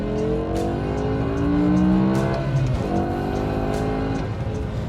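BMW M5 engine revving hard toward about 8,000 RPM, a loud close roar rising in pitch, easing briefly, then climbing again with harmonic engine tones sweeping upward.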